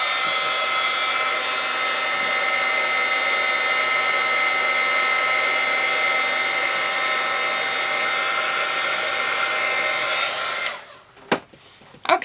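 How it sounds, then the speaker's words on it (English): A handheld heat tool blowing hot air to dry ink on a pine cone reindeer Christmas card: a loud, steady, close whooshing hum for about ten seconds before it cuts off, followed by a few soft clicks. "I'm going to take my heat tool and I'm just going to dry that"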